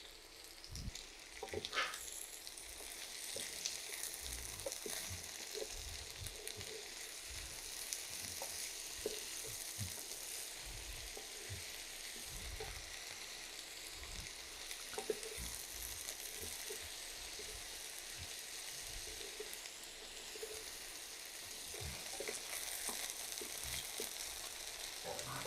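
Small diced potatoes frying in a pan, a continuous close crackling sizzle with occasional stirring scrapes, steady and moderately quiet, with no voices.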